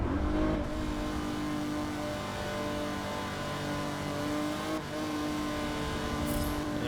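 Engines on the starting grid of a Forza 7 racing game rev hard and steadily for the whole stretch, a dense loud mechanical drone with a slight dip near the end.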